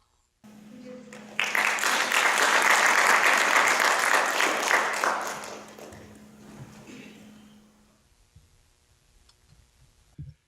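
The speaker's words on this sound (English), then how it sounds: "I want you to welcome him with big applause." A conference audience breaks into applause, building quickly to a loud sustained clapping that gradually thins out and fades over several seconds, welcoming a speaker at an educational technology conference in Seoul.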